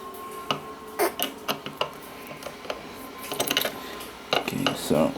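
Bolts being removed from an opened hard drive to reach the head assembly: scattered small metallic clicks and ratcheting ticks, close and fairly quiet, with bursts of talk alongside.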